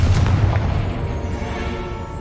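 A Confringo fire spell explodes in the video game Hogwarts Legacy, a loud booming blast that hits at once and then rumbles and fades over about two seconds.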